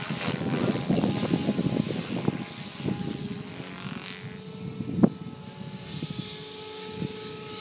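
A Goblin 500 RC helicopter fitted with Edge 523 blades, spinning at about 2800 RPM, flies at an outdoor meet in Orlando, its rotor and motor whine rising and falling at moderate distance, with a sharp clack near the middle.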